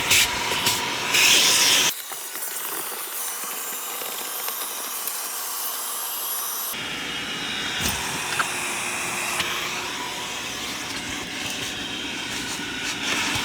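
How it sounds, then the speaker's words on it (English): A vacuum cleaner roars with a loud airy hiss inside a heavily soiled smoker's car, its tone shifting and briefly dropping as the suction clogs and changes, steady and close with no speech. "My vacuum has never been clogged like that before."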